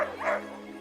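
Sled dogs at a dogsledding outing giving a short excited yip and bark, close and moderately loud over a steady background hum.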